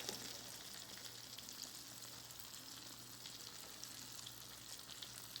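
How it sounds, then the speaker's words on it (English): Steady, close sizzling of salmon patties frying in a hot cast iron skillet, a constant crackling hiss with a low hum underneath and no talking. "I'm frying them in a cast iron skillet"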